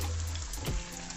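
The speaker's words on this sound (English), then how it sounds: "you can see here it's frying really properly now." Akara bean fritters frying in hot oil: a steady, dense sizzle and crackle held close, with a low hum under it and one soft thud near the middle.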